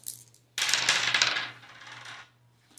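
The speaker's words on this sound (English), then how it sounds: "We're going to roll on Liston's card." Dice roll and clatter across a board for a boxing board game, with a sharp rattling burst that tumbles for a second and settles into quieter skittering before stopping.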